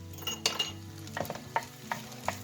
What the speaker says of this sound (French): Et là, on va remuer sans cesse.